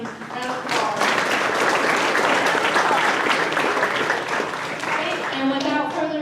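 Dense, steady audience applause at a 2019 JROTC awards banquet fills the room for several seconds, with voices talking over the clapping.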